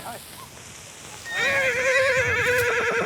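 Young horses neigh in a loud, wavering whinny that starts about halfway through and carries on to the end, with quieter background noise before it.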